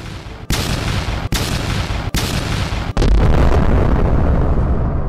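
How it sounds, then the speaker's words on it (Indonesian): A large fireball explosion bursts around a giant snake monster. Three sharp blasts come at even intervals, then a fourth heavy boom opens into a sustained roaring rumble. Everything is loud and close, with no voices. "menembakkan fireball-nya kembali, yang membuat ledakan cukup besar di sekitar monster ular tersebut"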